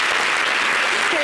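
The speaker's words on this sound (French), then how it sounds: "Applaudissez pour l'émission." Studio audience applauding on a French-language Ivorian TV talk show, a dense steady wash of clapping throughout the brief moment, loud and close.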